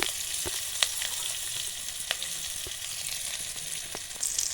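Chopped onion frying in a little oil in a pan gives a steady, close hiss of sizzling broken by scattered sharp pops and crackles, with no voices.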